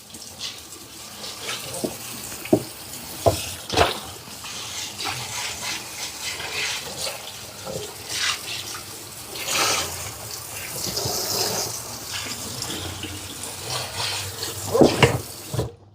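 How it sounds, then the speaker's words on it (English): Cold water runs steadily from a kitchen tap into a sink while a leg of lamb is rinsed under it. The splashing and gurgling shift as the meat is moved, with occasional knocks and handling sounds nearby. "And let me run the cold water in there."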